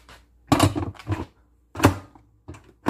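A pressure cooker lid set in place over mung beans and water, a few close knocks and clunks of the lid against the pot in short bursts, with no voices.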